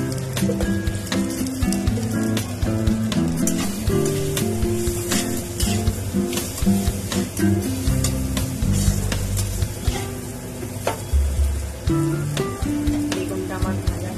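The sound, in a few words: eggplant frying in a pan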